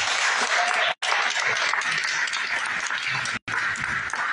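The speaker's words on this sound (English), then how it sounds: "Give her another round of applause" An anniversary-celebration audience claps in a dense, sustained burst of applause, loud and close, with two brief cuts breaking the steady roar.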